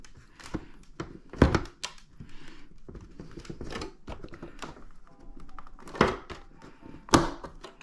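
Plastic front air duct vent on a 2021-or-later BMW G82/G83 M4 being pressed into place, with a series of close, dull thunks and taps, several sharp louder knocks near the middle and end amid quieter handling clicks.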